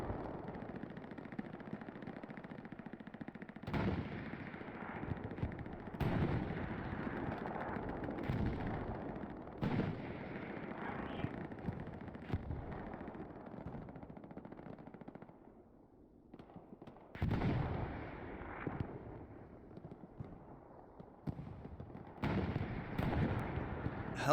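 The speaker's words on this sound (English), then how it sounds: "Oh, and an artillery strike" Artillery strike in the Hell Let Loose video game: heavy, rumbling explosions and bursts of gunfire roll on almost without pause, loud and dense, with brief lulls between volleys.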